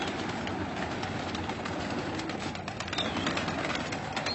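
A flock of pigeons coos and flutters at a modest distance, soft bird calls scattered over a steady background rumble.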